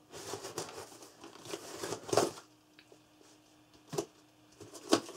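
Crinkly tearing and crumpling of packaging in several bursts, with sharper rips near the end, close and fairly quiet.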